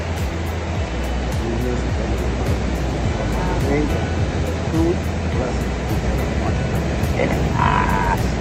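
Surf washing steadily against a rocky beach in Lombok, a continuous broadband roar that stays loud throughout, with faint voices and occasional knocks mixed in.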